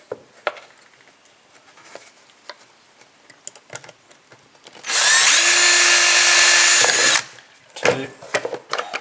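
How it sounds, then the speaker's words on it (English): A power drill whirs loudly and steadily for about two seconds, boring through material, surrounded by quieter clicks and handling noises. "We're going to just drill 4 holes like that."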